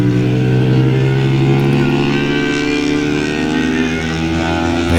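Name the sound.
Yamaha R15 V4 motorcycle riding on a race circuit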